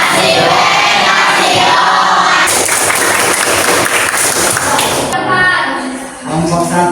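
A group at an Indonesian school education workshop breaks into loud, dense clapping that sustains for several seconds before tapering off, with voices mixed in near the end.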